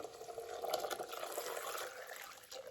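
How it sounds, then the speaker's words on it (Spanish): Milk poured into a blender jar holding corn kernels and cornstarch, a faint, steady liquid gurgle and splash lasting a few seconds. "Le agrego la mitad de las 4 tazas de leche."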